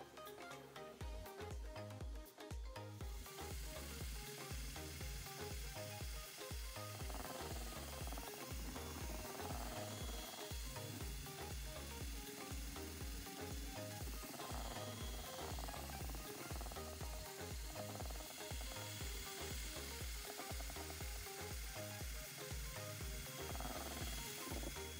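A power mixer churns epoxy resin for flooring in a steady, continuous whir with a rhythmic low knocking pulse, holding even loudness for the whole stretch with no talking.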